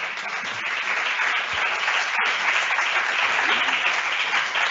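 Continuous applause from an audience at a talk on workplace wellbeing plans, a dense, even roar of clapping that stays loud throughout.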